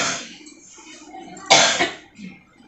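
Coughing in a home, with a softer hacking cough at the start and then one sharp, loud cough burst partway through, close to the listener.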